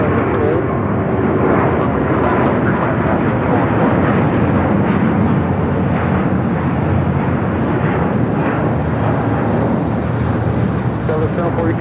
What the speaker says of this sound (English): Japan Airlines Flight 15 taking off to Tokyo Haneda on the A350-1000